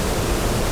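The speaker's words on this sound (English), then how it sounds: "there's a lovely set of waterfalls here in a beautiful copse" Waterfalls in a wooded copse near Black Tor on a rainy moorland walk, a steady, dense rushing roar of falling water, close and constant with no breaks.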